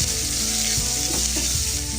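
Two thinly sliced medium onions sizzle as they fry in a pan with green chillies, a close and steady crackling hiss with no speech.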